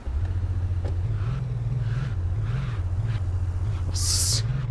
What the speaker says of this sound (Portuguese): Vamos tentar levar esse carro para casa agora.